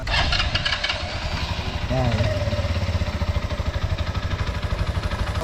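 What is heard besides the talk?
motorcycle engine starting and idling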